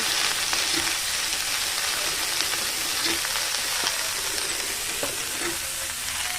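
Chopped chichinga (snake gourd) frying with salt, turmeric and mustard seeds gives a steady, close sizzle that hisses without pause, with a few faint stirring scrapes against the pan and no voices.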